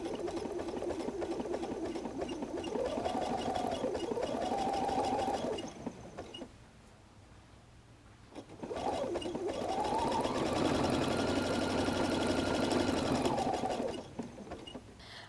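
A sewing machine stitches around the oval base of a fabric-covered clothesline rope basket, its motor whirring steadily in two long runs with a short pause between, close and clear.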